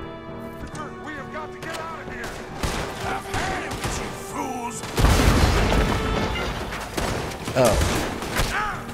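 A dynamite explosion in a Western video game: a heavy boom erupts midway through ongoing gunfire, rumbling and crackling with debris, amid chaotic shots and shouting, with a brief spoken exclamation.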